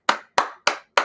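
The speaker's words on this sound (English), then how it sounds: "I'm applauding all that." Hands clap four times in an even, crisp rhythm, sharp and close, as brief applause during family games with no talking.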